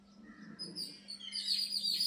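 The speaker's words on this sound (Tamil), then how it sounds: "பார்த்தியா குருவி கத்துறதை கண்டுபிடிச்சிட்டாரு" Sparrows chirp outdoors in thin, high tweets that grow busier and a little louder toward the end, over a low steady hum, with no voices.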